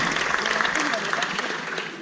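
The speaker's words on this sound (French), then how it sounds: "On peut applaudir les super-héros sur scène et en coulisses" An audience at a Marvel event at Walt Disney claps under and alongside a presenter's voice, moderately loud and sustained for a couple of seconds.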